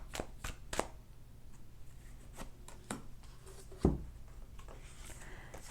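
Tarot cards being shuffled and drawn make quick papery flicks and riffles close up, followed by a sharper slap as a card is laid down, with light handling noises in between.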